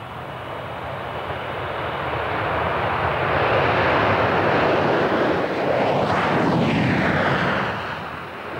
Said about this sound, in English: But the fastest planes have jet engines, which push them through the air.